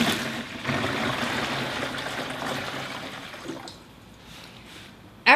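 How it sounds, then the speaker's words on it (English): Clear flower storage solution poured from a one-gallon household pitcher into a bucket, a steady broad liquid gush lasting several seconds before thinning to a softer trickle, close and fairly loud. "I'm going to pour this into our bucket."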